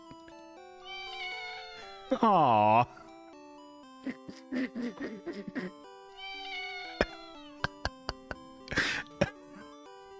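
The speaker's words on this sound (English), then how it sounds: "It's a little meow because it's a kid." A cat gives a series of short meows, some higher and drawn out, with gaps between calls, while people talk and react softly in between.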